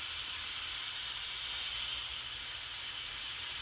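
An airbrush fed from a compressor set at 40 PSI sprays paint onto model railroad track, giving a continuous, even, close airy hiss that holds steady throughout with no voices.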